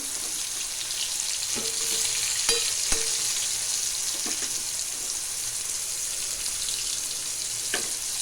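Sliced pumpkin frying in a pan, a steady soft sizzle with a few sharp clicks and scrapes of a utensil scattered throughout, no voices.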